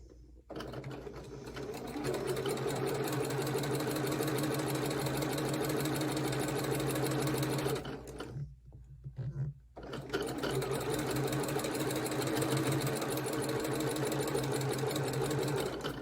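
A sewing machine stitches a quilt block in a fast steady whirring run, pausing briefly midway before resuming at the same even pace, loud and close.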